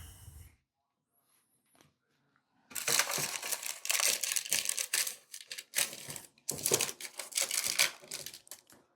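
Paper being crumpled and scrunched up by hand in a home kitchen while baking treats, a dense crackling rustle that starts after a quiet pause and continues in irregular bursts, loud and close, with no talking.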